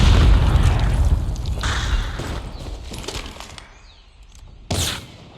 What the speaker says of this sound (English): Bomb dropped.